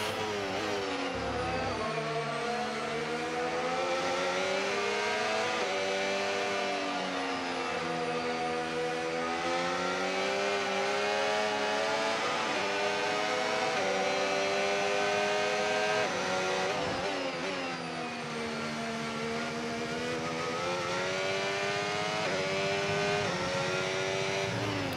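Race cars circle on a formation lap in a racing video game, engines revving up and down continuously and loudly, with gear-shift dips and rising whines as the car passes others, no talking.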